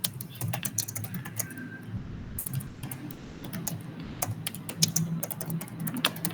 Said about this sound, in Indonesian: Saya ketik, saya lupa.